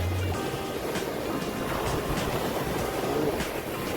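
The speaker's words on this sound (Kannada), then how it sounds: "ಸ್ವಲ್ಪ ನೀರು ಜಾಸ್ತಿ ಆದಂಗೆ ಕಾಣಿಸ್ತಾ ಇದೆ, ಅಲೆಗಳು." Sea waves wash onto a beach at night, a continuous broadband roar of surf that swells and recedes steadily, filling the scene without voices.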